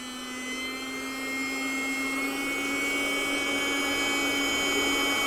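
Air rushes steadily out of a deflating inflatable sleeping pad held off the ground, a continuous close hiss with a low hum that grows slightly louder and holds without pause.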